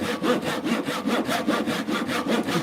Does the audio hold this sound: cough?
no